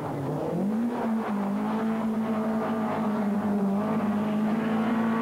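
Rear-wheel-drive Peugeot rally car with an Opel 400 engine, competing in the 1988 Donegal International Rally, holds a loud, steady engine drone at high revs, pitching up briefly near the start and sustained close by throughout.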